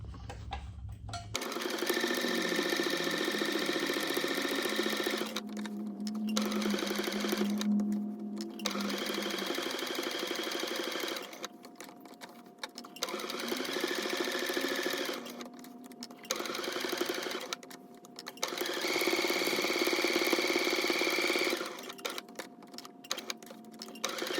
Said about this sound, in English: I'm just going to stitch on this line